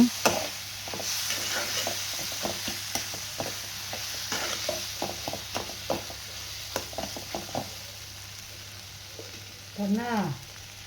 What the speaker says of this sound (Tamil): இதை நல்லா வதக்கிடுங்க